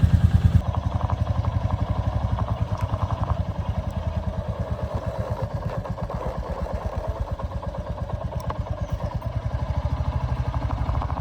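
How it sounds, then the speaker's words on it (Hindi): A Royal Enfield motorcycle engine idling after a cold start, a close, steady, rapid thumping beat that runs evenly for the whole stretch without talk. "साउंड कितना प्यारा लगता है रॉयल एनफील्ड का,"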